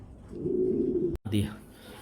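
A Lahori pigeon coos in a low, soft murmur, then a brief sharp knock breaks in before more low cooing and faint background voices.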